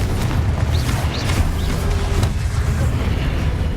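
A Confringo fire spell blasting in Hogwarts Legacy, heard as a loud, booming rumble with crackling bursts that holds steady for several seconds.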